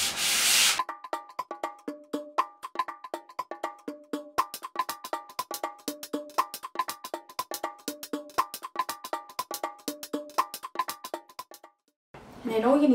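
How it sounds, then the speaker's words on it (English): A wooden picture frame is lightly hand-sanded in quick, rhythmic rubbing strokes, each pass giving a short scratchy rasp, close and fairly quiet, with a brief voice at the start and end. "So all you're doing is just very lightly sanding it"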